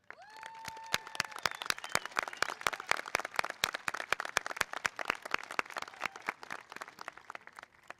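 A high school graduation audience claps for the teachers with sharp, distinct handclaps spread across the whole stretch, fairly close and steady, with a brief whistle or cheer near the start.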